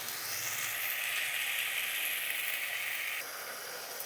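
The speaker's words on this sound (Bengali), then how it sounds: "দেখো মশলাটা একটু ভালোভাবে কষে নেব" Spice paste sizzling steadily in hot oil for Bengali chicken kosha, a dense continuous hiss that holds at the same level for about three seconds, then drops slightly and carries on, with no talking.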